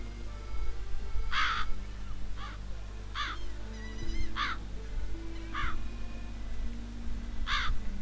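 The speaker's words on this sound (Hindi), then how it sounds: "इतने सारे कौवे एक घर में क्या बैठे हैं?" Crows caw in The Witcher 3: Wild Hunt, six harsh calls spaced about a second apart over a steady low ambient hum, fairly close and clear.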